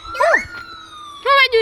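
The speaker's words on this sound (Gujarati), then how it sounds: "એમ્બ્યુલન્સ વગાડે એટલે જો" Ambulance siren played through a phone speaker, a rising and falling electronic wail in two bursts with a quiet gap between, loud and close, with a voice briefly audible.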